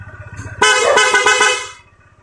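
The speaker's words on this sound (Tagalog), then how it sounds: "Loud horn with passing." Over a puttering idle engine of a Honda ADV160 scooter, a loud aftermarket motorcycle horn blasts in one sustained, pulsing honk that fades out after about a second.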